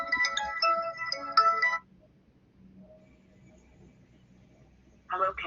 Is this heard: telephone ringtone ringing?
yes